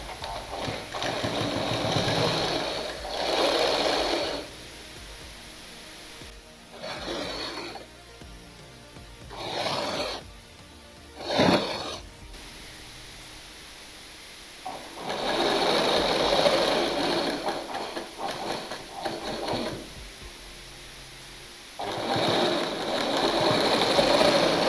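Sewing machine stitching folded fabric for a newborn's cap-sleeve dress, running in several bursts of steady mechanical whirring separated by quieter pauses, close and clear.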